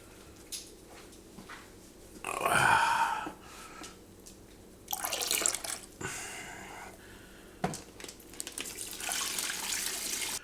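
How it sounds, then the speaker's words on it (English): Turkey brine pours and splashes into a container in several bursts, a rushing gush followed by quieter trickles and a steady stream near the end. "I'm going to pour the brine solution in"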